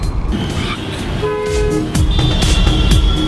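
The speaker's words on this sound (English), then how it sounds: "That is the train of Mumbai." A Mumbai commuter train rumbles past with rhythmic wheel clacks on the rails, while two-tone horn toots sound clearly over the steady, close, loud rolling noise.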